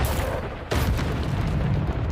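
A Bombarda spell explodes in the video game Hogwarts Legacy: after a quieter start, a sudden loud broadband blast hits and then roars on as a dense, sustained rumble.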